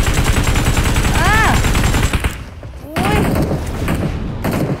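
Rapid gunfire in a shooting video game, loud bursts of rattling shots and booms packed together, pausing briefly before resuming, with players talking over the action.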